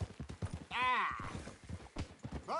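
Horse hooves clip-clop quickly and close by in a PS4 video game, and a short whinny cuts in partway through the galloping rhythm.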